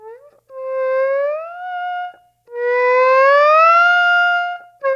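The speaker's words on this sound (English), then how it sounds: "you have the note transition time, so that you have your ability to modulate or to choose like how much portamento you add to that" A theremin sounds two sustained notes, each sliding smoothly upward with portamento into a held pitch, with a short gap between them; the tone is loud, close and clean, with no talking.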